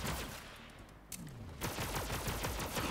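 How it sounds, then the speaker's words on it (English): Dense gunfire in Borderlands 3: rapid, overlapping automatic bursts that thin briefly, then return as a thick, continuous volley, close and loud with no talking. "What are you shooting at?"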